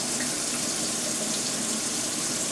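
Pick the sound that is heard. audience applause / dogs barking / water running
water running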